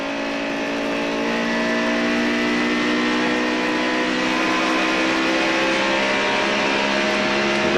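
Onboard engine of Rusty Wallace's NASCAR Winston Cup car racing at Dover Downs in 1994, a loud, steady, sustained roar at high revs with no voices over it.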